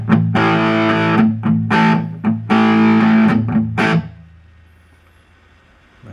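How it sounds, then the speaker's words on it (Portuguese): Electric guitar played through an Ashland DT distortion pedal, several loud fuzzy chords and bursts ringing for about four seconds before cutting off into near silence. "Agora eu vou pôr a distorção aqui,"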